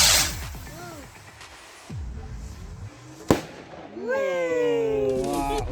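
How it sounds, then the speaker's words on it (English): A Bonfire Night firework rocket whistles upward, bursts with a sharp bang and crackle, and more whistling rockets follow in the open air outdoors. Other fireworks pop in the distance. "Another rocket."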